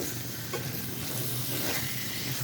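Pre-fried chicken pieces tossed into a hot pan for a roast sizzle and hiss while being stirred, a steady close frying noise with a few scraping touches.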